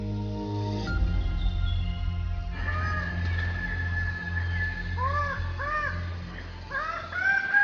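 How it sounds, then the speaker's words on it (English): Birds of paradise calling in a remote tropical forest, with repeated rising whistled and squawking calls over a steady low drone and a harsh buzzing burst at the start, the calls growing louder and more layered toward the end. "These are the birds of paradise."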